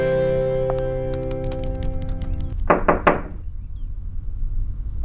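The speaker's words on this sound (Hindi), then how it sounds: "आपको नॉक करने की जरूरत नहीं है" Several firm knocks on a door, a quick cluster of hollow thuds heard nearby after sustained background music fades, followed by quiet room tone.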